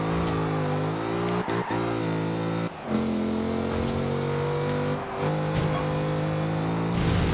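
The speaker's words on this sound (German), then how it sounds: "Ja, kann ja noch ein bisschen driften." Car drifting in Forza Horizon 2, a sustained engine drone with shifting revs and brief gear-change dips, steady and close throughout with no talk.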